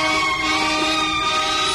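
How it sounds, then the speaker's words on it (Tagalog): A fire truck siren wails steadily and loudly, its sustained tonal bands holding level through a busy street soundscape. "Kanina pa ako nakakarinig ng sirena ng bumbero."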